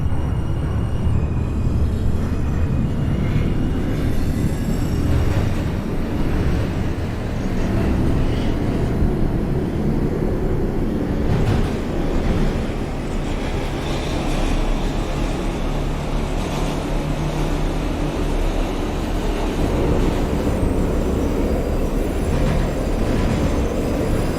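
An NYC Subway R142 train in the OpenBVE simulator runs on the 2 line to Flatbush Avenue in snow, giving a loud continuous rumble and rail roar with a steady motor hum and no letup.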